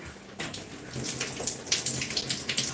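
Running tap water for hair washing starts abruptly and continues as a steady splashing, bright gush up close, with no talk over it.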